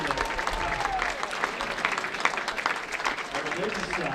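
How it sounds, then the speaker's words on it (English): Crowd applause for competitors at a U.S. amateur bowling championship in an indoor alley. Steady, moderate clapping runs through the whole clip with murmuring voices mixed in. "How about a round of applause for all of our competitors?"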